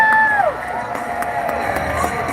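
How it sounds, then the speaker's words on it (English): Fair crowd at a Markham monster truck show cheers and applauds for a driver, a broad distant roar with scattered whoops and a brief tonal call at the start, fairly steady throughout. "Let me hear your applause for Pat Paquette back over here behind the bus."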